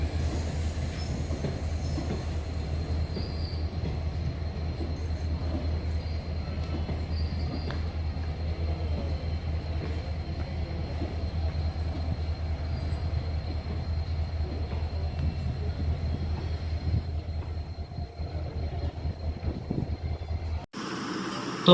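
A train at a railway station rumbles steadily with a deep, continuous rolling drone, faint wheel squeal and rail clatter running throughout, close and loud, before cutting off abruptly near the end.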